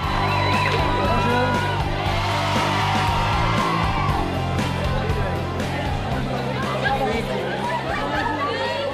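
A packed concert crowd of fans screams and cheers in a dense, continuous roar, with chatter and shouting voices mixed throughout at close range.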